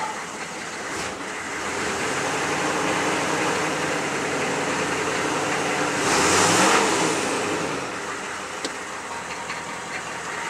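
A Chevy 6.5L diesel engine with a troubleshooting fault runs loud and close with a rough, knocking clatter, rising briefly in a short rev before settling back to a steady idle.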